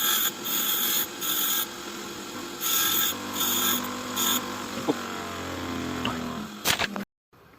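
A new serrated, blunt-tipped TIG welding electrode being sharpened, several bursts of rasping grinding with pauses between them, close and fairly loud, ending in a short sharp scrape before quiet.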